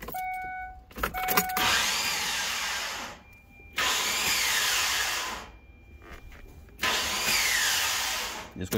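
A 2002–2009 Kia Sorento 3.5 with a failing starter motor cranks in three separate whirring bursts of a few seconds each, separated by pauses and clicks, with no engine catching and no talk over it.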